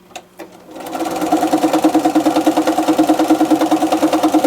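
A sewing machine stitches a foundation-pieced log cabin quilt block, with a couple of soft clicks before a loud, steady, rhythmic needle-driven chugging, close and alone.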